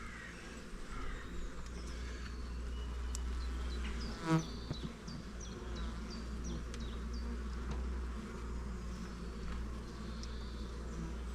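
Honeybees buzzing around an open hive during a frame inspection, a soft steady drone with individual bees whizzing past near and far and one louder close fly-by.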